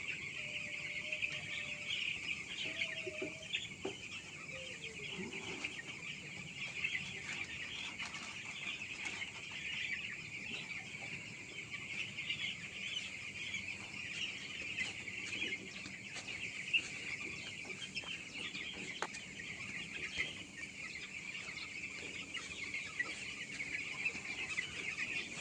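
Young chicks on a poultry farm fill the shed with a constant, faint, high-pitched peeping chorus, with a few louder individual calls early on and occasional soft rustling, steady throughout.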